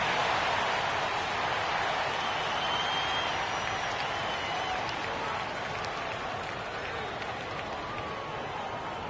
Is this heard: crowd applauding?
yes